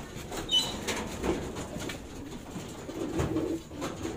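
Soft, low cooing from a racing pigeon at a rural loft comes through faintly, with occasional wing flutters and light outdoor background noise.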